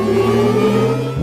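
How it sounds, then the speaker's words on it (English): Synthesized electric-car sound for the Audi R8 e-tron, played with the gas pedal fully pressed: a steady, layered, engine-like hum with sustained harmonic tones, loud and close, that swells and rises at the very end. "These are elements of the Audi R8 e-tron sound"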